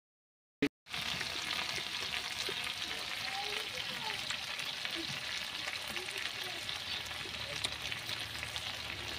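Chicken meat sizzles and fries in a pan, a steady close hiss of frying that starts after a brief click and continues with occasional faint stirring sounds.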